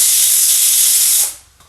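A pressure cooker whistle releasing steam in a home kitchen: a loud, close, continuous bright hiss that holds steady and then cuts off abruptly, leaving near silence.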